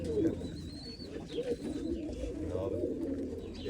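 Mecidiye pigeons coo softly in a loft, with low throaty rolling calls repeating steadily at close range and a faint thin chirp or whistle above them.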